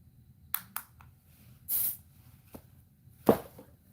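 A Bath & Body Works spray bottle spritzes in several short hissing bursts, including a longer mist near the middle and a sharp puff toward the end, close and fairly quiet with no talk.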